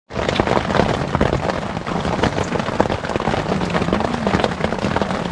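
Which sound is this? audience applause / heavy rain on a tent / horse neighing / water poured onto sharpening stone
heavy rain on a tent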